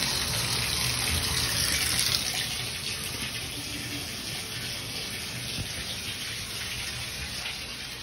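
Steady running warm water pours from a tap into a container, a continuous hiss that eases slightly after a couple of seconds and keeps flowing.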